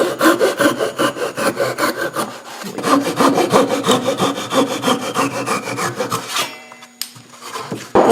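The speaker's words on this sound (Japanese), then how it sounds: "今度中の板、それを今度切っていきます。" A double-edged Japanese hand saw cuts through a wooden board for a spice rack, giving loud, close, rhythmic rasping strokes that run steadily before slowing and stopping near the end.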